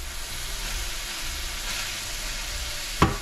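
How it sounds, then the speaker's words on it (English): Ground beef sizzling and crackling in a hot pan on the stove, a steady hiss with a brief sharp clatter near the end. "Now you can really hear the beef sizzling on the stove"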